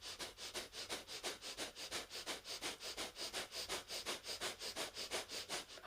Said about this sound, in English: Now we close our sequence of pranayama with one last little blast of breath of fire